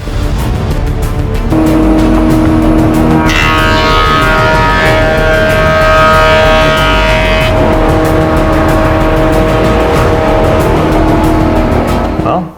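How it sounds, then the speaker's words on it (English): A thickness planer smooths glued-up beech boards, a loud, steady motor whine with a harsher, brighter cutting roar in the middle as a board feeds through, then settling back to the running hum. "I just need to run it through a planer so I get a nice smooth flat surface on both sides"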